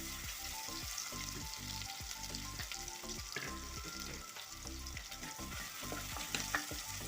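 Crushed shallots and ginger sauté in a pan, giving a steady close sizzle and crackle with a low rhythmic hum pulsing underneath throughout, no talking.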